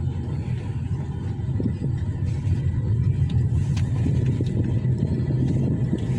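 A car drives along a Singapore road, heard from inside as a steady low engine rumble and road noise with no talk.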